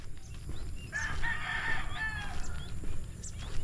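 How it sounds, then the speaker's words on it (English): A chicken crowing on a road in the Philippines: a clear rooster cock-a-doodle-doo in the middle, with scattered clucks and outdoor ambience around it, moderately near. "I'm following you, chicken."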